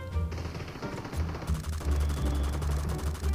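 An M4 rifle fires in BGMI (PUBG Mobile) zombie mode, rapid bursts of automatic gunfire with sharp repeated cracks and heavy low thumps, loud and close, with no one talking.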